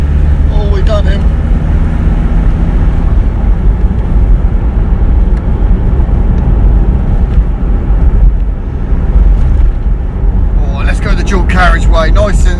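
A car out on a road for its first drive after an engine rebuild, with a loud steady engine and road roar throughout, close and continuous, with a brief rattle near the end.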